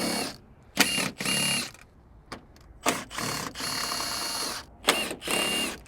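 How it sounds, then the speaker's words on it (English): Impact wrench on a Tesla Model Y Juniper, unbolting the DRL light bolts: several loud, close bursts of whirring hammering, each lasting about a second, separated by short pauses and faint clicks. "we're going to go ahead and unbolt those. Same thing with the impact wrench here."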